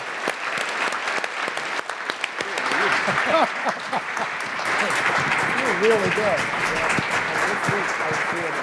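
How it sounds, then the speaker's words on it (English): An audience at a talk on war powers gives a big round of applause, dense clapping throughout while someone speaks briefly over it. "I want everybody to give Gene a big round of applause in particular"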